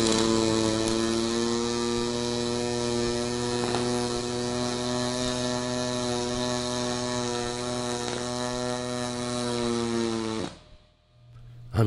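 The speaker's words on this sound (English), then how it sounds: "I am actually in the process of testing out the HTP ProPulse 200." An HTP ProPulse 200 MIG welder runs in pulse mode, giving a loud, steady buzzing hum with strong tonal harmonics that holds for about ten seconds, then cuts off abruptly into near silence.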